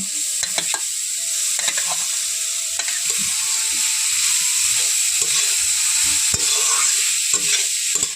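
Grated carrot and beetroot frying in a pan with cumin, chili and ginger, giving a loud, continuous hiss and sizzle with scattered spoon scrapes and clicks throughout.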